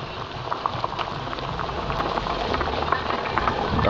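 A pot of sinigang na bangus, milkfish soup, boils hard with a dense, steady bubbling and crackling, close up and fairly loud, with no talking.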